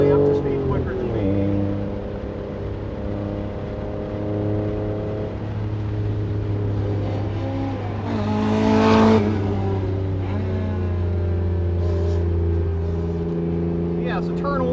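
Toyota MR2 race car on a road circuit, its engine note rising as it passes close by, heard over the steady drone of the in-car engine, with a voice talking over it.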